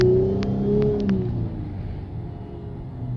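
Inside the cab of a truck with its resonators cut off, the engine revs with a deep, droning rumble whose pitch rises and settles, heard loud and steady for about three seconds with a few faint clicks early on.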